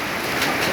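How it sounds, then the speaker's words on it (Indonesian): Hail falls outdoors as a brief burst of dense, hissing patter, a steady noisy wash without distinct individual hits. "Hari ini hujan es."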